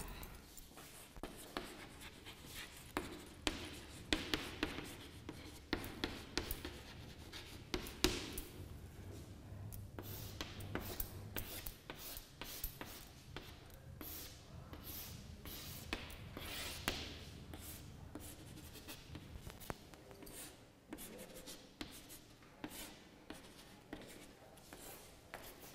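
A pen or marker drawing a plant diagram on a surface during a classroom lesson, with rapid repeated scratchy strokes and taps continuing throughout, close and moderately loud, with faint voices in the background.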